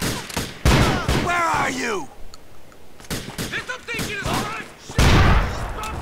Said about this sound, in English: I actually kind of prefer using the handguns